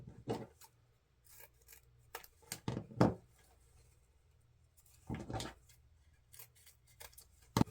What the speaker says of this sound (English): grab your scissors, come down 1 inch or so on the folded side, and then cut up diagonally to that corner to give you that pretty dovetail